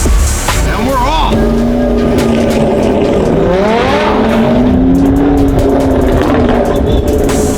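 Chevrolet Corvette C8 supercar accelerating hard among other supercars, a loud close engine roar climbing through gears over road and wind noise, with people talking over it.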